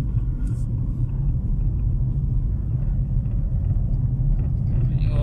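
A Hyundai Accent with a dead instrument cluster drives along a road, heard from inside the cabin as a steady, low engine and road rumble that stays constant throughout, with no talking.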